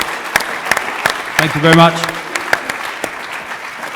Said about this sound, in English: everyone, a round of applause for Drew and George